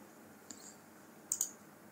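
A computer mouse clicks through a software installer in a quiet room: one soft click, then a quick close pair of crisp clicks a moment later, all faint.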